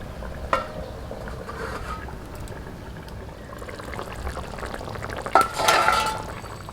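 Potol shorshe ilish, a pointed gourd and hilsa curry in mustard sauce, cooking in a covered pan: a steady low sizzle and simmer, with a couple of sharp clinks of the lid or utensils near the end.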